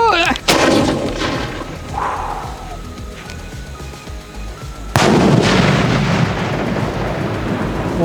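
Two heavy booming blasts of sky shot fireworks, one near the start and another midway, each followed by a long crackling, rumbling tail, loud and close.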